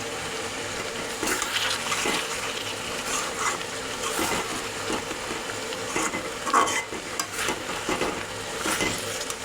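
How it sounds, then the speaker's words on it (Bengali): Water being poured into a pot of chicken biryani, a continuous, fairly quiet splashing and pouring with a few louder surges, and no talking. "আমি আর একটু জল দিয়ে দেব"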